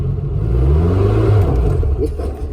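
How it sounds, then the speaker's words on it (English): A 1972 VW Bug's air-cooled engine revs up and holds a steady, rumbling drone as the clutch is let out gently, close and loud, with a voice speaking briefly over it. "Give it some gas and then let out the clutch kind of gently."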